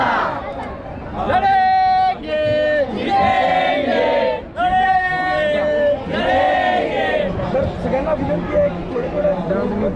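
A protest crowd from a fishing community chants slogans loudly and in rhythmic unison, repeated waves of many voices close by, with crowd chatter between the chants.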